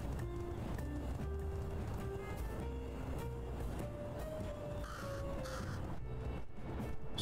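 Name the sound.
crow cawing in video game Little Kitty Big City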